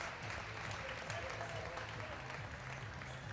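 Applause from a netball crowd at a Netball World Youth Cup match between Fiji and South Africa, a steady, moderately distant clapping wash that lasts throughout, with a commentator talking over it.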